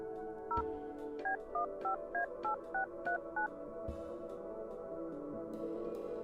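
A phone number keyed in on a telephone in the video game Kathy Rain 2: a quick run of about eleven crisp dual-tone beeps at an even pace over a quiet background hum, with no talking.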